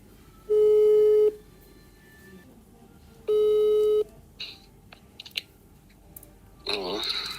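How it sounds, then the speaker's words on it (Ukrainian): A telephone call sounds two loud, steady tones, each about a second long, separated by a pause, then a few soft clicks, with a brief voice near the end. "я набираю"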